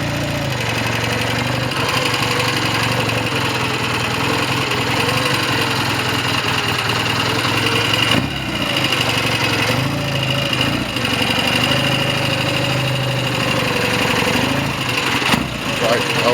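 A BSA A10 Super Rocket motorcycle engine idles in the snow, a loud, steady, uneven twin-cylinder thrum that runs throughout with a brief blip of revs midway, while someone speaks over it.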